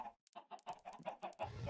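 Chickens clucking in the video game Minecraft, with a quick run of short, choppy clucks in an uneven rhythm, close and clear, ending in a brief rougher burst, with no talking.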